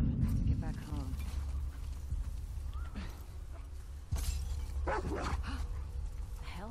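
A dog barks in The Last of Us Part II, with several yips and barks scattered over low ambient game noise and occasional mechanical sounds, a voice speaking intermittently.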